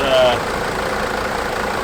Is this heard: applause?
no